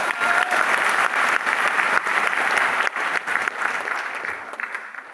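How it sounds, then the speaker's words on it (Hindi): Steady applause from an audience in a hall during a training program, dense and sustained clapping that fills the room for several seconds, with faint voices mixed underneath. "अपने लिए एक बार तालियां बजा लो।"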